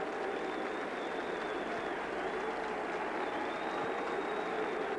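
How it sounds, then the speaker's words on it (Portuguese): Grêmio home supporters at a 2004 Campeonato Brasileiro match against Coritiba fill the stadium with a steady, dense mix of boos and applause, a distant continuous crowd roar with whistling tones running through it. "E o misto, né, de vaias e aplauso aqui na torcida do Grêmio"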